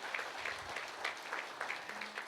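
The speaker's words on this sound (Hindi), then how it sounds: "आप इनके लिए तालियां बजा सकते हैं।" An audience at a spiritual talk in India claps for a local service team. The clapping is fairly quiet, a loose rhythmic patter of many hands heard from a distance, with no speech.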